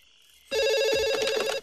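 A telephone bell in a film scene rings once in a loud, close, continuous metallic trill lasting about a second, then cuts off sharply.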